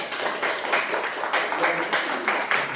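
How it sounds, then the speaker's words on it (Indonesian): A crowd of Islamic boarding school students claps together at a group career guidance session, a dense, steady applause that rises and falls in waves and continues throughout. "Oke, tepuk tangan untuk kita semua."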